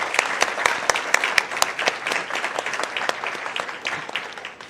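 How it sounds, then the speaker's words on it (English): A school board meeting audience claps for junior varsity cheer teams who won a national championship. Close, loud applause from a sizable crowd with sharp individual claps standing out, continuing steadily throughout. "Let's give them a round of applause for that."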